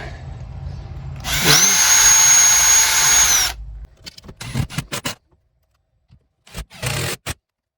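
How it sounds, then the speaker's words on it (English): A power drill whirs steadily for a couple of seconds, close and loud, drilling small pilot holes in a shed door for a T-handle, followed by scattered handling clicks and rattles of tools. "now I'm just going to go ahead and drill a couple small pilot holes to screw our handle"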